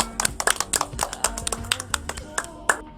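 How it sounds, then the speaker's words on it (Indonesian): A classroom group claps for the second group's presentation, a brief run of sharp uneven hand claps and taps close by, with faint murmuring underneath. "Tepuk tangan untuk kelompok 2 nah."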